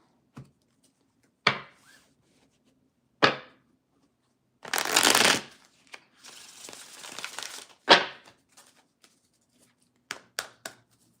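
Tarot cards shuffled by hand in three separate bouts, with short riffling crackles and a longer sustained burst of card noise in the middle, close and fairly loud against a quiet room with no talking.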